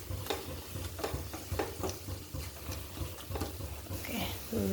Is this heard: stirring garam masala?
yes